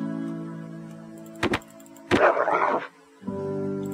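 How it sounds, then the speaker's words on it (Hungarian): Dogs barking in the survival video game Keplerth, a short burst of two sharp barks followed by a louder, noisier flurry of growling barks, set over a steady droning game soundtrack with no talking. "Kutyák minden mennyiségben."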